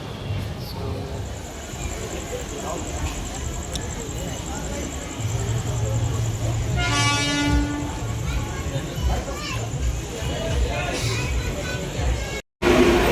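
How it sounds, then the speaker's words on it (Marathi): Express train pulling into a station platform with a steady rumble of wagons, a horn sounding partway through and a high whine overhead, while people talk nearby. "आमची आता ट्रेन लागलेली आहे बघा"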